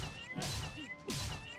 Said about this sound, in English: The same meow over and over